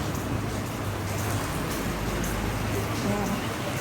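Heavy rain pours down in Kuwait while someone shelters from it. A dense, steady hiss fills the whole clip, close and loud, with a faint voice murmuring beneath the downpour.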